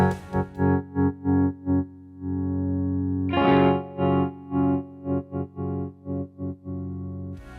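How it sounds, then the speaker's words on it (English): An electric guitar chord pulses on and off in rhythmic swells shaped by a volume pedal, each note swelling and cutting, with a longer sustained stretch in the middle. "use a volume pedal to do things like rhythmic volume swells"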